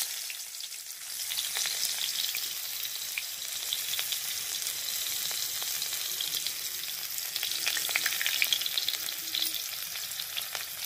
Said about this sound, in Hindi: सबसे पहले मैं इसमें ऐड करूंगी प्याज,